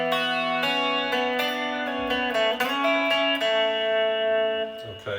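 A guitar with a capo plays a riff, ringing picked notes and strummed chords in a bright, sustained pattern, close and clear with no talking.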